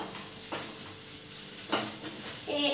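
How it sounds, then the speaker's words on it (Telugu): Onions fry in a pan for biryani, giving a steady close sizzle with occasional stirring scrapes and clatter against the pan. "ఫ్రైడ్ ఆనియన్స్ కూడా ప్రిపేర్ చేసుకోవాలి"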